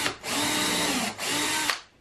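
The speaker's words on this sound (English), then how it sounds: "I think I'm going to pre-drill that again" Pilot holes are drilled into wood with a power drill in two short, loud runs separated by a brief pause, each ending as the motor whines down close to the listener.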